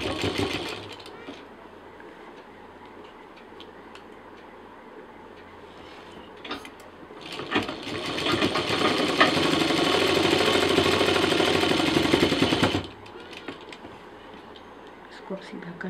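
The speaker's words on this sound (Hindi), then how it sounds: "और अब इसको हम पूरा फाइनली सिलेंगे।" A sewing machine stitches a DIY sling bag, starting with a few brief bursts before running in a steady, rapid whir for about five seconds; a person talks quietly in the background.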